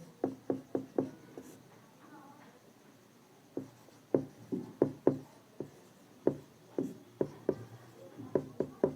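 A pen writes out a math solution on paper, making a run of short, regular tapping strokes up close, broken by a brief quiet pause, with faint room noise behind.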